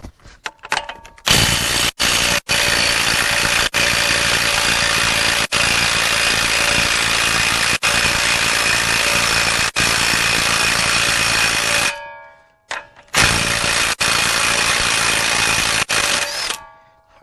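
Power tool working a 34 mm axle nut off a 2012 Chevy Traverse front hub, loud sustained buzzing bursts with brief gaps and a pause near the end before restarting, no speech.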